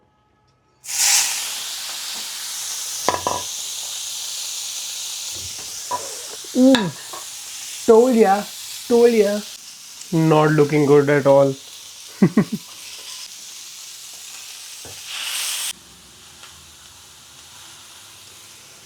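Chicken sizzles in a pan with a steady, loud hiss that starts suddenly and holds for about fifteen seconds. Someone talks over it in several short bursts, and then it cuts out.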